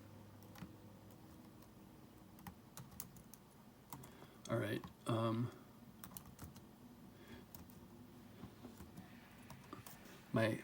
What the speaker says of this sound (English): I'm going to try to be typing